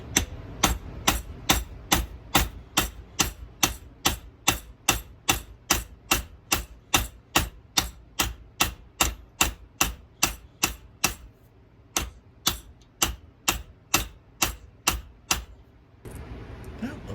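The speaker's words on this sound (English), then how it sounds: "I'll use a bigger hammer, this one," Steady, rapid hammer blows flattening metal for a crane hook, about two per second, sharp and ringing, continuing without talk before a brief pause and a few final strikes.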